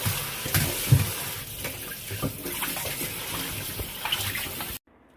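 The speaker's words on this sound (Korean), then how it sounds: "뜨거운 물에 데친 레몬은 바로 차가운 물에 담가서" Blanched lemons go into a basin of cold water, giving a steady splashing and running-water wash close by for several seconds, then falling silent at the end.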